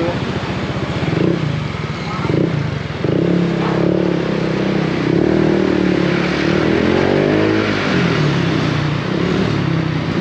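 A motorcycle fitted with an E-Tech Power Pipe exhaust revs during a sound check, the engine rising and falling through several throttle blips over a steady idle, with people talking nearby.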